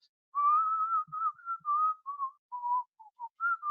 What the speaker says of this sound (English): whistling to herself